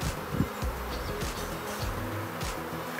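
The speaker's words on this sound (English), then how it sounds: "I'm going to shake these bees into this box" A swarm of honeybees buzzes steadily and densely throughout, close and loud, with some low knocks from handling the hive box.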